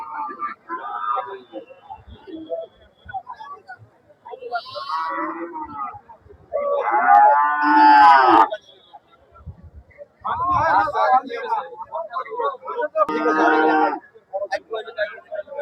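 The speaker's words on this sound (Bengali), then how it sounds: "গরুও প্রচুর উঠছে" Cattle low and moo among a crowd of voices at a livestock market in Bangladesh, loud calls rising over steady chatter in a busy outdoor setting.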